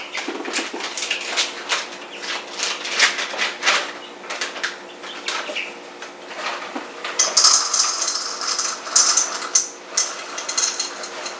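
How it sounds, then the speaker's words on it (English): One cup of chocolate chips poured into a bowl, a clattering patter of many small hard pieces striking the bowl in irregular bursts, close and fairly loud, with no talk. "we're going to put in our 1 cup of chocolate chips"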